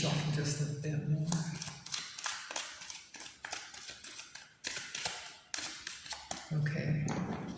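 Tarot cards shuffled in quick bursts of crisp riffling taps, loud and close, with talk alongside between the shuffles.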